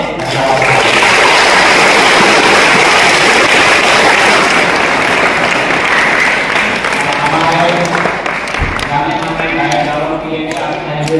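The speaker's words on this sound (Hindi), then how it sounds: "हम लोग जोरदार तालियां से गड़गड़ाहट से" Loud, thunderous clapping from a gathering applauding children's and women's groups at a youth celebration, sustained and dense before thinning out near the end, with voices rising through it at the close.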